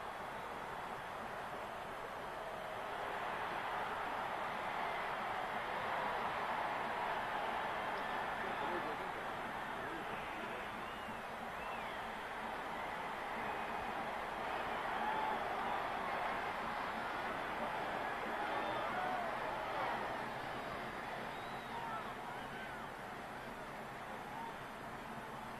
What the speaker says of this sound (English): listen to that Tennessee crowd.